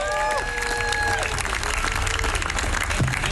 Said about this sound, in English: So everybody, please give it up for Dan Cohen.